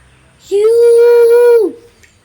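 A voice imitates an elephant with one long, loud, steady trumpeting call, lasting about a second before cutting off.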